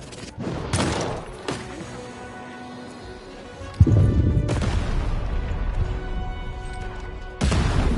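Cannon blasts from the Baroness's two cannons in the video game Lost in Random, heard as several loud, booming explosive bursts with crashing impacts over a busy game soundscape, with the heaviest blast about halfway through.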